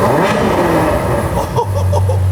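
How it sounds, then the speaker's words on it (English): A Ferrari V12 engine cranks and catches, settling into a deep, loud idle rumble after a rough, noisy start. "Fire this baby up. This is this V12."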